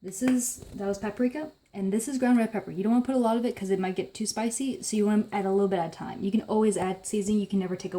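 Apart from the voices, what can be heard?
No everyday noises stand out.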